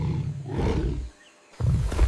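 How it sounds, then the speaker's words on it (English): A jaguar snarls in the Amazon jungle during a standoff, giving a loud, rough growl for about a second, then a short silence before a second harsh snarl bursts in close by. "He snarls, exposing the strongest bite in the cat world."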